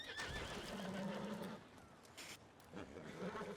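A horse whinnies loudly in a ranch roleplay video game, the neigh rising and wavering over clip-clopping hooves, then trailing into snorting and further stamping at fairly close range.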